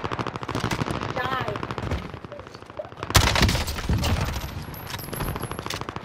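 Rapid automatic gunfire from the video game Warzone Zombies rattles in long, dense bursts, with a louder volley near the middle, while players talk over the shooting.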